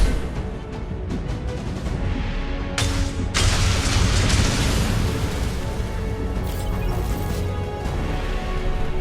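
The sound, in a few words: flashbang grenade explosion in the video game Mass Effect 2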